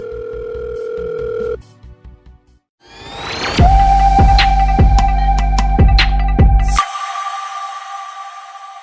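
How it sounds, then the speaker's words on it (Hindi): A phone call ringing tone in a Hindi audio drama: a brief steady tone, a short gap, then a loud electronic ring pattern pulsing repeatedly over a low hum before cutting off. "अंजुम ने फोन को अपने कानों के पास लगा रखा था और बेल जा रही थी।"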